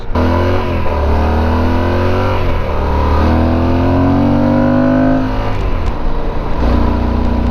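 A Yamaha Super Tenere motorcycle accelerates hard out of corners on a twisty road, its engine note rising in steady revving surges. The sound is loud and close, with wind rush and no talking.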